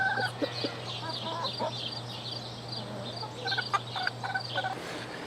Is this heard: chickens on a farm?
yes